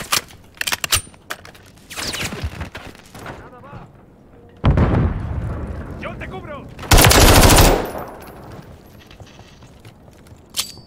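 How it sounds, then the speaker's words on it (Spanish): Bursts of automatic gunfire ring out in a Call of Duty Modern Warfare III multiplayer match, with loud rapid volleys and sharp single shots separated by quieter gaps. "¡Me disparan!"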